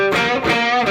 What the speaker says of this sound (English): like here's just the dynamic distortion